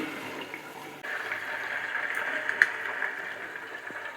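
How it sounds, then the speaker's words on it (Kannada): Cow butter from a native Malenadu Gidda cow boiling in a pot for ghee, giving a steady bubbling, frothy hiss that swells slightly after the first second and carries a few faint crackles. "ಎಷ್ಟು ಚೆನ್ನಾಗಿ ಕುದೀತಾ ಇದೆ."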